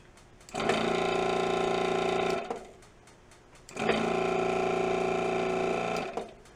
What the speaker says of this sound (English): Now we're going to use the desoldering tool also on these